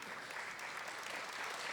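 A church congregation applauds in a dense, continuous wash of clapping, moderately distant and steady for the whole short stretch.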